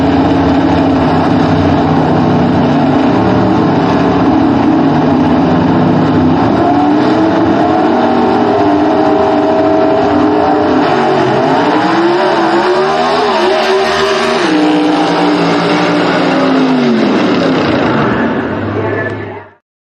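A/Gas gasser drag race cars roar loudly down the strip at a Southeast Gassers event in Knoxville, engines revving hard with shifting pitch before fading out at the close.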